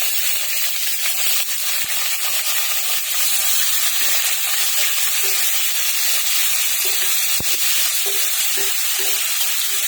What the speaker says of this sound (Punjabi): ਹੁਣ ਆਪਾਂ ਇਹਦੇ ਵਿੱਚ ਪਿਆਜ਼ ਪਾ ਦਵਾਂਗੇ